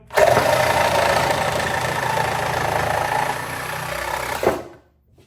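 A Sawzall reciprocating saw runs through a cut, giving a steady, loud, buzzing rasp up close for about four seconds before a brief surge and then a sudden stop into silence.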